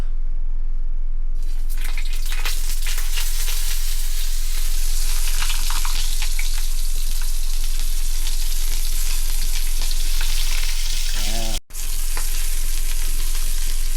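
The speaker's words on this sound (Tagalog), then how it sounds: "mainit-init na yung mantika natin. Ilalagay na natin yung hotdog." Hotdogs drop into hot cooking oil and fry with a loud, continuous crackling sizzle that hardly wavers, broken only by a brief dropout near the end.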